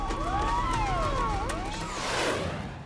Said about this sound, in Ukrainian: Нічну тишу струшує завивання пожежних авто.